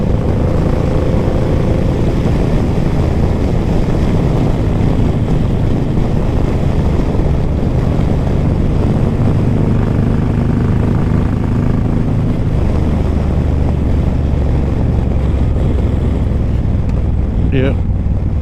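Continuous loud wind roar and engine rumble from a Suzuki M109R motorcycle on the road, with a vibrating windshield adding a steady low buzz throughout.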